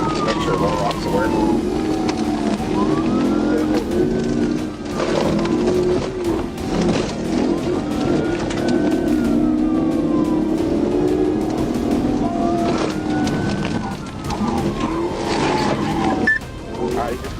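A police car siren wails in rising and falling sweeps during a high-speed chase, heard over steady road and engine noise and sustained throughout the clip.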